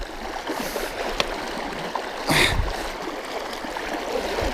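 Fast-moving stream water rushes over smooth stones, a steady close wash of hiss and gurgle with a brief louder splash partway through.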